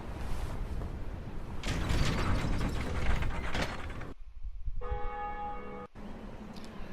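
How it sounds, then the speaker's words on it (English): Switch-operated church bell mechanism in Dark Souls, Undead Parish: dense grinding gears and ratcheting clatter, then a sustained metallic bell ring with shimmering overtones, loud and continuous without speech. "And the switch rings the bell."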